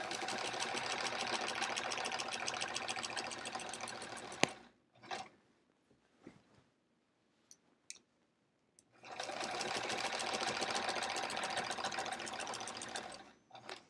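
Sewing machine doing horizontal quilting across a bulky sampler quilt, running in a steady loud whir for about four seconds, falling quiet with a few faint clicks and shuffles, then whirring steadily again to the end.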